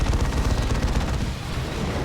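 D-cannon fire in a Dawn of War 2 battle, a dense rumbling barrage of heavy, loud booming shots mixed with continuous combat noise.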